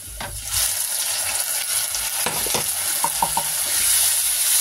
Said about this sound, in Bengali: এই বেটে রাখা মশলাটা এতে দিয়ে দিচ্ছি।